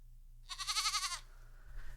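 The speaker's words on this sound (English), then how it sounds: "Yes, you're a goat" A goat on a Southern farm gives one wavering, quavering bleat lasting under a second, fairly close, against a low steady background hum with no talking.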